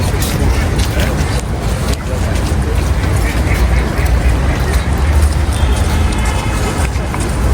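Ducks on the open, unfrozen part of a partly frozen lake in Central Park, heard within a loud, dense outdoor wash of city traffic and crowd noise, with voices mixed in throughout.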